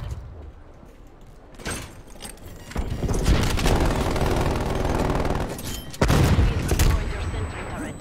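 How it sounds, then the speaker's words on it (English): Video game combat with a loud blast from a flashbang grenade midway, surrounded by scattered gunshots and a second sharp bang later, with speech heard faintly beneath. "Flashbang going on."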